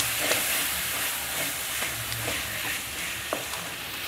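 Chopped onions and tomatoes fry in a hot pan for dal khichdi, giving a continuous close sizzle and hiss with faint scrapes and clicks of stirring.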